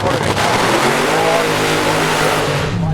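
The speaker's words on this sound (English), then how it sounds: "And there is that beautiful front-engine slingshot dragster of Pete Kaiser" A front-engine slingshot dragster roars at a nighttime drag racing event, a loud continuous engine blare with rising tones that fills the whole stretch without break.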